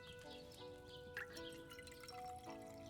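Liquid poured into a cauldron while brewing a potion in Kingdom Come Deliverance 2, a faint trickling and dripping with soft splashes over a quiet, tonal game background, no voices.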